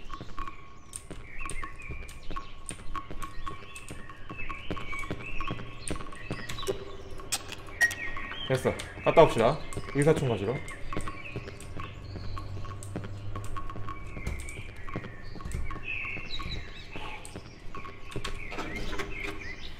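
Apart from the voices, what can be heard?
birds chirping in the video game Cry of Fear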